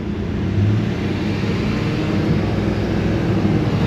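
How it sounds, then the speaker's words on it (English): A Dodge Ram 2500 with a 5.7L Hemi engine held at raised idle, a steady low rumbling drone recorded close by that stays even and continuous throughout, with no voices. "We revved it up to about 1500 RPMs to get it going a little bit more."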